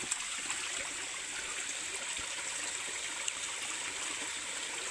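Water runs out of a hole at a dig site in a continuous close trickling stream, steady and fairly soft with no talk.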